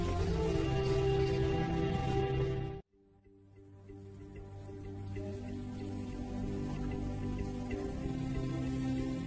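Steady rain patters and drips on surfaces, briefly cutting out, then returning as a soft continuous wash.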